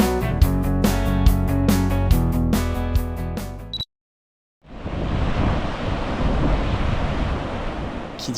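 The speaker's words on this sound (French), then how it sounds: "Les vagues étaient cool" Ocean waves at Red Gate Beach, Margaret River, a broad rushing surf roar mixed with wind noise on the microphone, loud and close, heard after a brief stretch of music and a short silence.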